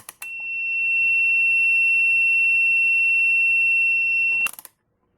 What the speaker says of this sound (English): First I'm going to drain the caps using the continuity.